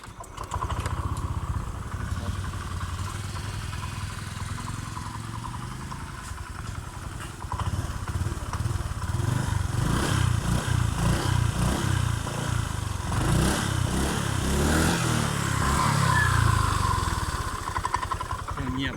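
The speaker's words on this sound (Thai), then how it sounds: "เดี๋ยวสตาร์ทฟังเสียงให้ฟังนะครับ" A Honda Click 125 scooter's small engine cranks and starts, then settles into a steady idle with mechanical clatter while someone talks over it.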